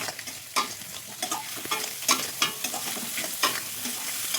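Prawns cook in an oily spice masala, a steady sizzle with repeated sharp scrapes and clacks of a spatula stirring against the pan, close and with no talk.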